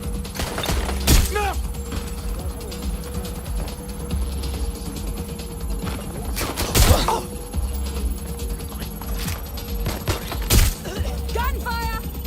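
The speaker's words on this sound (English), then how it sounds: "Gunfire!" Gunfire in the video game Watch Dogs Legion, with sharp shots and louder bursts cracking out repeatedly over a steady hum of game ambience.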